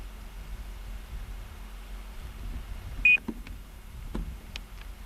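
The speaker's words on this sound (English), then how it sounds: "3 usable satellites, and it started beeping" A GPS receiver gives a single short electronic beep while logging position fixes outdoors, clear but brief against a faint background hiss, with a few soft clicks after it.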